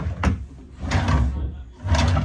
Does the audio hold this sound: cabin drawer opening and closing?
yes